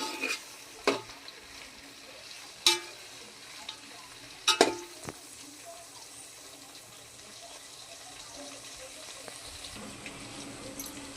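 Vegetables are stir-fried for vegetarian fried rice, with a soft, continuous sizzle, sharp scrapes and clanks of a spatula against the pan at intervals, and a faint watery hiss toward the end.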